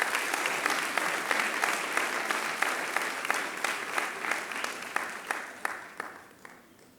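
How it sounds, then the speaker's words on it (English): An audience applauds the recipient of a university research award at a ceremony, a dense, loud, sustained clapping that holds steady for several seconds and then thins out as individual claps taper off. "A round of applause,"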